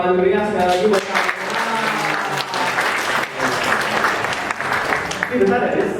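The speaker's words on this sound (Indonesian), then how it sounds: "boleh dong tepuk tangan meriah sekali lagi buat kamu" Lively applause from an audience at the SAA Awards ceremony for a winner, with a voice speaking over the clapping and music-like tones underneath, continuing for the full stretch.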